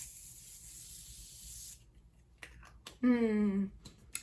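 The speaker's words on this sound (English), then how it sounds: "I love the Morphe setting mist because it's continuous, so let's see." A continuous Morphe setting mist in the Sweet Peach formula lets out a long, steady airy hiss for nearly two seconds, followed by a few quiet clicks and a short voiced sound.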